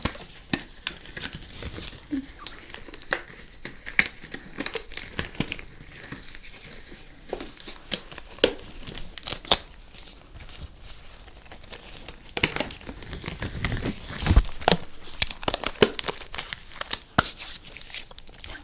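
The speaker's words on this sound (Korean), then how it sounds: "장갑을 착용해줍니다." Protective gloves are pulled on for florist work, giving close, soft crinkling and rustling with scattered sharper crackles and snaps over a quiet room, busiest toward the end.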